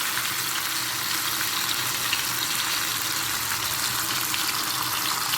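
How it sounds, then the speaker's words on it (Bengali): Potatoes frying in oil give a steady, even hiss throughout, close by and unbroken, with no stirring knocks or voices standing out. "আলুগুলো দিয়ে দেবো একটু ভেজে নেবো"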